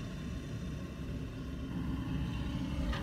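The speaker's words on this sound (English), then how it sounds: "Cars coming in and out" Cars at a dump rumble in and out as a continuous low engine and tire drone, moderately distant and steady for the whole span, with no voices.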